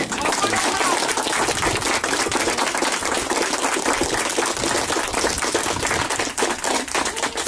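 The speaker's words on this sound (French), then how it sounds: "Alors encore des applaudissements pour Donnant au cœur." Volunteers of the Denain au Coeur association receive a long, dense burst of applause from a crowd gathered at a small support walk, steady and loud throughout.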